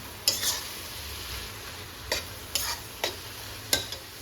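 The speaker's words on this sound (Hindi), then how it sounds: "कीमे के साथ इसकी मैंने अच्छे से भुनाई कर दी है" Keema fried with masala and tomatoes in a pan, a soft continuous sizzle broken by several sharp scraping stirs of a spoon, close and fairly quiet.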